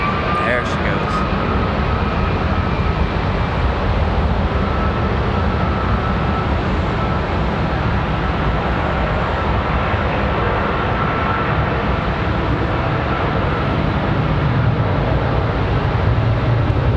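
An American Airlines heavy airliner roars steadily during takeoff at Charlotte Douglas International Airport, a loud, sustained broadband engine rumble with no letup throughout.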